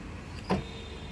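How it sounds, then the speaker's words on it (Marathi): A car's power window on a Konkan road trip whirs open with one brief, quiet motor sweep amid low cabin rumble. "काच खोल काच."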